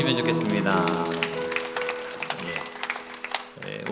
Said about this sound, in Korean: 박수해 주시면 좋겠습니다